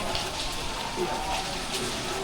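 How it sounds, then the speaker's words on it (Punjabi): Steady, dense hiss of heavy rain pouring down in Auckland, constant and enveloping with no pauses. "ਮੀਂਹ ਅੱਜ ਹਟ ਨਹੀਂ ਰਿਹਾ ਕੱਲ ਵੀ ਬਹੁਤ ਜ਼ਿਆਦਾ ਮੀਂਹ ਆ"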